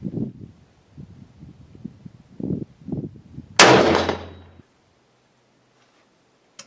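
A single sharp gunshot fired over a LabRadar chronograph, loud and close with a decaying tail, following a stretch of talking and then fading into silence.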